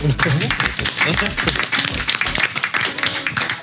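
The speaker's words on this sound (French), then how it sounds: "Merci à vous, on vous applaudit." Audience applause at a live outdoor event in Erquelinnes, steady dense clapping filling the whole stretch while a presenter talks over it.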